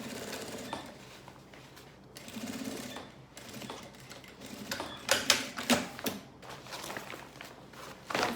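A sewing machine runs a seam across the edges of a fabric coat-holder piece in short bursts, quiet at first and then louder, sharper runs of close mechanical clatter.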